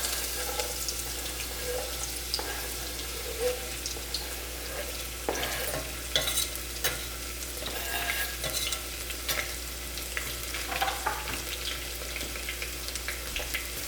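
Onions sizzle and fry in a pan for fish curry, a steady close crackle with scattered stirring clicks and scrapes running throughout, no voices.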